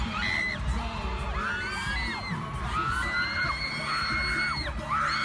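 Dense, loud screaming from a fan and the surrounding crowd at a concert, with overlapping high shrieks and whoops rising and falling continuously over a roaring crowd bed.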